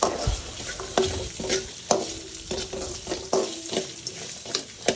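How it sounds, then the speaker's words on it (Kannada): Cloves and poppy seeds sizzle in a little oil in a pan, with a spoon scraping through them in regular strokes about every half second over a steady close frying hiss. "ಲವಂಗ ಗಸಗಸೆ ಇದನ್ನು ಹಾಕ್ಕೊಂಡು ಸ್ವಲ್ಪ ಎಣ್ಣೆ ಹಾಕಿ ಫ್ರೈ ಮಾಡ್ಕೊಳ್ಬೇಕು"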